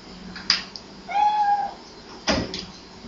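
A cat meows once in the Fatal Frame 3 video game, a single clear drawn-out cry set between a few sharp knocks or clicks, like a door being handled nearby.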